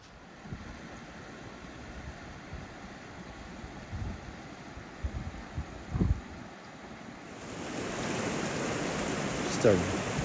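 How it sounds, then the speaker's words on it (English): A mountain creek rushes along a hiking trail toward Keiths Hut and Vantage Peak. It starts faint under wind and scattered footsteps and thumps, then swells into a louder, steady broadband wash of flowing water. "It's a creek on either side of us."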